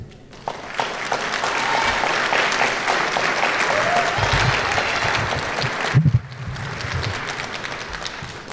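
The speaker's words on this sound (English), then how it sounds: "Would the graduates give their support system a round of applause" A graduation ceremony audience claps for the graduates' families and supporters, a full burst of applause rising quickly, holding steady for several seconds with a brief dip and then continuing in a large indoor space.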